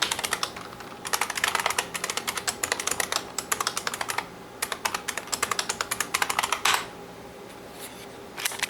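Fingers tapping out a password on a computer keyboard at a boot login for Debian Linux in an office tech room, bursts of quick close keystrokes with short pauses between runs, no talking.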